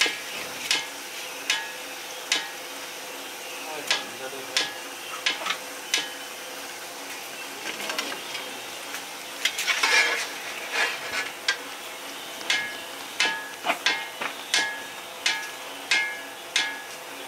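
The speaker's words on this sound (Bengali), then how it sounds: "বাকিটা আমি পুরো ব্যাটারটা এইভাবে করে ভেজে নিচ্ছি" Banana and coconut batter fritters fry in oil under a steady sizzle, with repeated sharp clicks of a utensil stirring and scraping the pan at an irregular pace, near and moderately loud.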